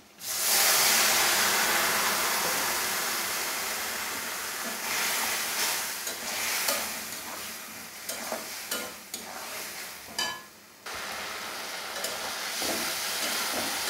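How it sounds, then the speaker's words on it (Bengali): Spice paste of chili and turmeric powder sautéing with water in a pan, a loud burst of sizzling hiss that settles into softer bubbling, with intermittent scraping stirs and clinks near the end. "মশলাটাকে আমি এখন জল দিয়ে ভালো মতো কষিয়ে নেব"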